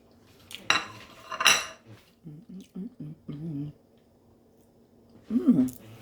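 A fork clinks and scrapes against a plate of scrambled Just Egg vegan egg in a few sharp bursts, with a voice murmuring briefly between them.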